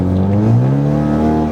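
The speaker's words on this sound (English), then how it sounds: "The turbo noises out of this thing is crazy now." A Ford Mustang fitted with a 3-inch turboback exhaust accelerates hard close by, a loud steady engine roar rising in pitch through the pull, with turbo whistle mixed into the exhaust note.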